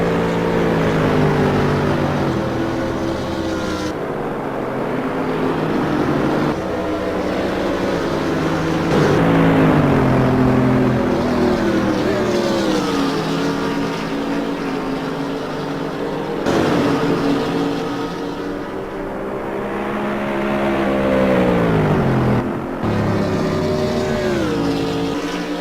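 Race cars in the simGT racing game at Mugello, including a Taurus Racing Mercedes-Benz, drone steadily with rising and falling engine pitch through gear changes, loud and continuous with no talking.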